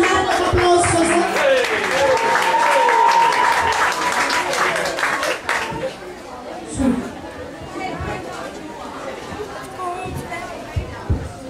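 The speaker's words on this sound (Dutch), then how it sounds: "Mag ik een hartelijk applaus voor ze?" Lively audience applause mixed with cheering and crowd chatter, loud at first, then thinning into murmuring voices and scattered claps.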